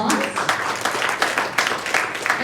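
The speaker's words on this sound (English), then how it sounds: "Let's give him a round of applause." Audience applause at a Philippine mortgage platform launch event, rapid claps forming a moderate, continuous burst for a couple of seconds, with some voices mixed in.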